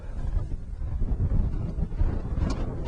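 Wind buffeting a microphone on a levee by the Delta on a cold day, a steady low rumble with irregular gusts, close and fairly loud, without any voices.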